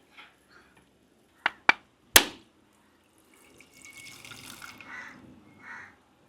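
Coconut water is poured through a strainer in a Jaffna-style home kitchen. A few sharp clinks come first, then a soft, close splashing trickle that runs for a couple of seconds and tapers off.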